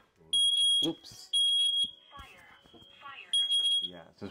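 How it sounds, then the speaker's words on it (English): Smoke detectors blare in loud, repeated high-pitched tones in three long bursts, with a steady shrill tone sustained between them, as people talk over the alarm. "and all the smoke detectors go off"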